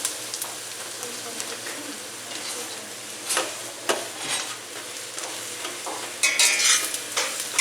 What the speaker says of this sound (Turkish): Soğanları pembeleşene kadar kavuracağız. Mantarlarını da birlikte kalsınlar.